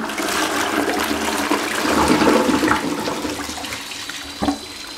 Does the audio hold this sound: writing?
no